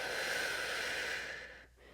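A long, steady breath, close and fairly loud, drawn out over a couple of seconds during an arms and abs workout, then fading out.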